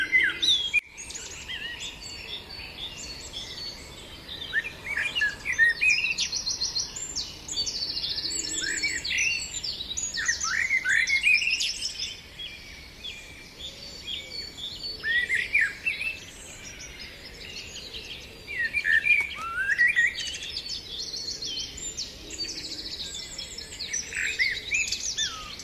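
Many birds sing and chirp continuously in an outdoor setting beside a river and fields, bright overlapping tweets over a soft steady background of insects, with no voices.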